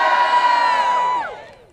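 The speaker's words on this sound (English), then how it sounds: "Now give me a cheer if you think public transportation is worth saving." A crowd of advocates at an outdoor rally for clean power and reliable public transit lets out a loud, brief burst of cheering and whooping that tails off after a second or so.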